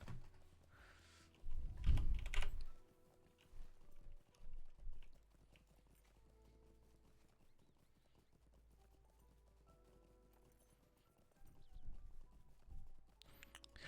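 Horse hooves clip-clop in the online game The Lord of the Rings Online, a few short bursts of hoof beats with a neigh, over quiet keyboard typing.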